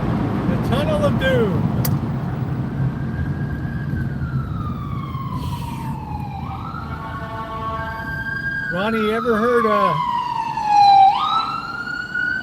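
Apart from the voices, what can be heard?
emergency vehicle sirens in a busy city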